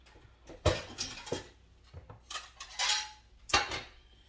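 A spoon is pulled out and knocks against other cutlery and dishes, giving several sharp, close metallic clinks in irregular bursts with quiet gaps between them; no one speaks.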